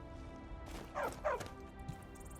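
A dog in the fantasy video game Skyrim gives two quick, close barks in a row, fairly faint over a quiet ambient background.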